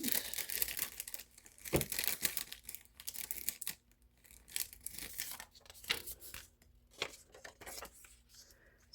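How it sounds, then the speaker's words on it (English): A paper cash-stuffing envelope being handled and crinkled, with intermittent rustling, tearing-like crackles and shuffling bursts, close and fairly quiet, no talking. "And then I'm going to grab a new envelope here."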